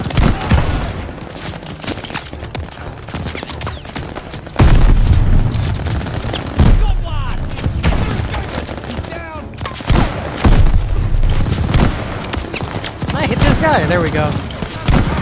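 Bursts of rifle and machine-gun fire with heavy booms in Call of Duty: Vanguard's Battle of El Alamein, loud and continuous, with shouted voices over the combat.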